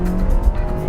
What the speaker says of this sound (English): There we go, good launch, a little bit of turbo lag.